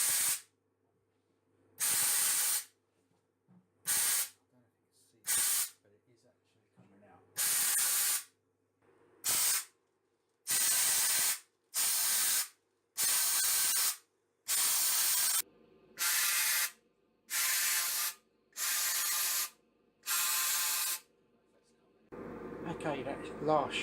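Repeated bursts of a paint spray gun spraying thinners hiss loudly, each lasting about a second with short silent gaps between, about a dozen in a steady rhythm.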